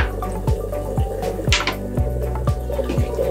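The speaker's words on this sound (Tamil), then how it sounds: "எண்ணெய் ஊற்றிக்கலாம், நல்லெண்ணெய் ஊற்றிக்கோங்க." Sesame oil is poured into a cooking pot for country chicken gravy, giving a steady series of wet drips and glugs at a regular rhythm, close and moderately loud, with no talking.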